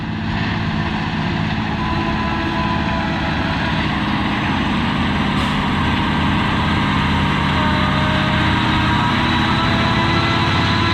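Heavy truck engine drones steadily and loudly at close range while hauling and spreading rock on a newly built gravel road, a continuous rumbling hum with no breaks.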